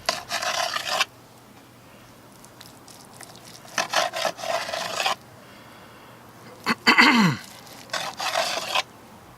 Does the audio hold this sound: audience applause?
no